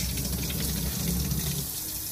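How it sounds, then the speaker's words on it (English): Water runs steadily from a household faucet into a sink, a continuous broadband rushing hiss with no breaks, close and even throughout. "I'm going to turn the water on in my faucet."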